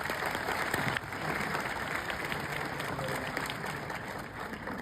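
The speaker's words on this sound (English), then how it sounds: "Let's give them a round of applause." A moderate round of audience applause follows a home-finance panel event, a steady wash of many hands clapping at a fairly distant, even level throughout.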